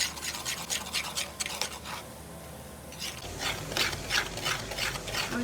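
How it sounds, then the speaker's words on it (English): Fennel seeds and spices sautéed in a pan for moong dal kachori, a soft scraping, stirring rasp in repeated strokes that pauses briefly before resuming, close and fairly quiet. "Saute everything."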